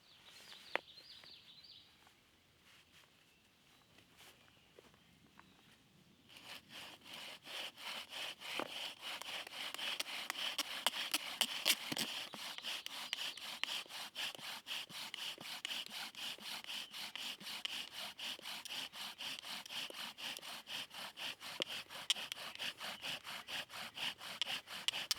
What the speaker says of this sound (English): it's time to try out the bow drill, aka friction fire